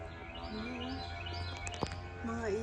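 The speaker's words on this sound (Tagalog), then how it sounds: "Taas ng puno, oh. May mga ibon doon." Birds chirp and sing from tall trees along a park trail in Georgia, several short calls and whistles coming from a distance over a steady outdoor background.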